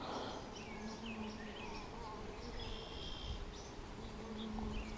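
Honeybees buzzing around an open hive during a check on newly caught swarms, a close, continuous droning hum with individual bees whining past, loud and steady throughout.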